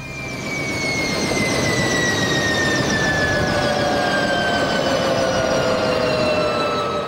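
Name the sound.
helicopters landing in tight formation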